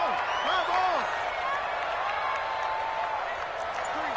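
A football stadium crowd at a Vikings vs Colts game roars in a steady, distant wash with faint whistles and shouts, under a commentator's voice.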